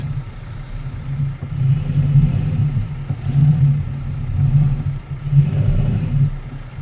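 A farm vehicle engine in Farming Simulator 19 runs at a steady low rumble, rising and falling slightly as if revving, loud and continuous with no voices.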